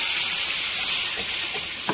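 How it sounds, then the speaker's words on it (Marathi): Steady loud sizzling of masala frying in a pan for egg curry, with faint scraping from stirring and no voices. "आपल्याला मसाला एकाच डायरेक्शनमध्ये फिरवायचा, जेणेकरून सर्व मसाला फ्राय झाला पाहिजे"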